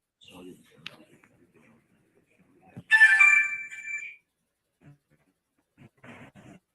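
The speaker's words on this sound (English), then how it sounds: "That was my phone that went off." Mobile phone ringtone sounds once in a late-night indoor setting, a bright electronic tone lasting about a second, loud and close, with faint talk and small noises around it.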